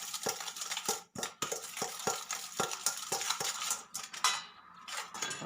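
A utensil stirs fish sauce and sugar into a Thai salad of fermented pork and golden Japanese sweet snails in a bowl, making rapid repeated scraping and clinking strokes, close and steady with no voices.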